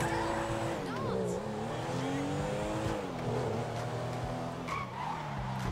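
A car in GTA 5 drives and skids, the engine droning steadily while tires squeal and the pitch rises and falls with the revs, loud and continuous throughout.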